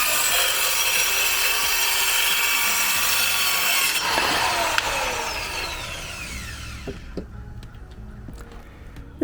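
A DOVAMAN mini circular saw cuts through thin plywood about half an inch thick, a loud steady whining rasp of blade through wood that fades and thins out over the last few seconds.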